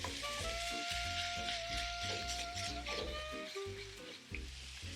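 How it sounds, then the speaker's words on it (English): A pound of ground beef fries in a pan for a picadillo, a steady close sizzle and hiss while a utensil repeatedly scrapes and breaks up the meat in rhythmic strokes. "Now I'm going to add a pound or half a kilogram of ground beef. And we're gonna just make sure we break that in there"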